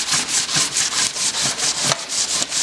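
Wood sanded by hand, a rapid steady back-and-forth rasp with about four strokes per second, close and continuous.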